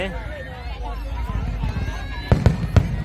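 Fireworks at the Pattaya fireworks festival, with a few sharp, fairly close bangs near the end following softer crackling and booms, while someone talks excitedly and a crowd murmurs in the background.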